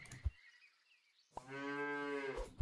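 A single long cow moo from the game Super Auto Pets, loud and close with a clear tonal call lasting about a second, preceded by short clicks and silence.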